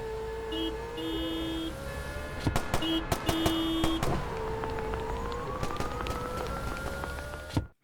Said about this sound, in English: Maybe add some weapon sounds. So this is what I ended up with.